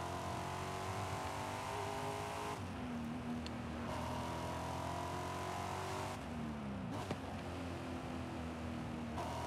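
Car with an Akrapovic exhaust in Forza Horizon 5, engine droning and revving through gear shifts with a few brief pops, loud and steady with no talk.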